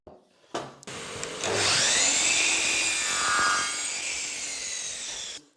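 Powered cutting of a skirting board along a scribed line starts with a click and a rising whine, then settles into a loud, sustained high-pitched cutting roar close by before winding down.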